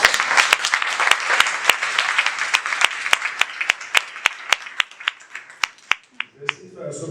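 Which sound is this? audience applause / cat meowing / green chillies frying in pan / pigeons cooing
audience applause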